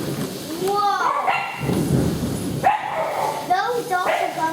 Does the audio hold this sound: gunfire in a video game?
no